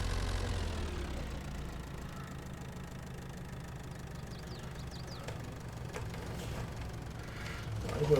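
A tractor engine idles steadily in the Farming Simulator 22 game, a constant low rumble that holds moderately loud throughout with no speech over it.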